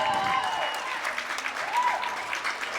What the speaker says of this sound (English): Crowd is excited here.